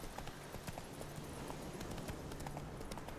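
Horse hooves clip-clop steadily on a path in The Witcher 3, a continuous run of fairly loud, even beats with a faint game backdrop.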